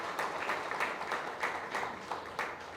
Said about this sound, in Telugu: మీ అందరూ ఫస్ట్ అర్జెంటుగా గట్టిగా చప్పట్లు కొట్టండి